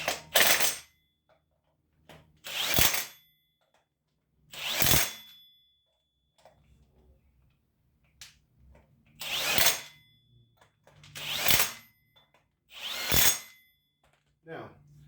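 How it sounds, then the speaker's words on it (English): Impact gun lightly snugging clutch bolts on an R32 GTR engine, six short rattling bursts spaced a second or two apart, close and fairly loud, with faint handling sounds between. "I gingerly hit it with my gun to snug them up"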